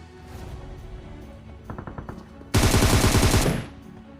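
Gunfire in the mobile battle royale game PUBG Mobile: a quick run of sharp shots, then a loud sustained automatic burst of about a second that cuts off abruptly, close and dominant.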